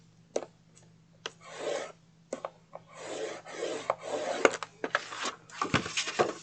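Paper being scored on both sides with a scoring tool, a series of close dry scraping strokes of varying length, each with a sharp tick at the start, some faint knocks between them.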